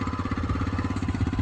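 A TVS Raider 125 motorcycle engine runs close by with a fast, even pulsing throb, held at raised revs throughout a short burst, with no talking.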